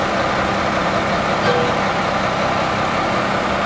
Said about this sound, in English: this is the truck with the hydraulic pump